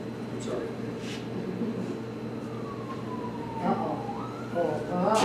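A fire engine siren wails in the distance, rising and gliding through its tones over a steady hum of traffic, getting more noticeable toward the end while someone talks over it.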